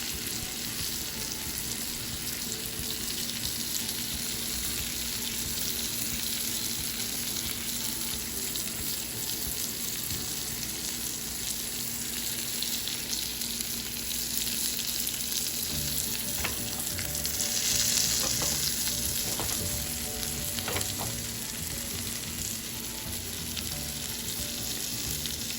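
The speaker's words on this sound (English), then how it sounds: "added some more butter and a fresh thyme just because I'm going to get some more aroma and the butter just to cook it a little bit faster" Salmon fries in butter with fresh thyme, producing a steady, dense sizzle that holds throughout, with occasional faint clinks and stirring sounds layered over the continuous crackle.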